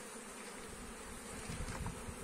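Native local honeybees buzz at a hive, a steady dense drone of many wings close by that swells slightly louder toward the end, with no voices.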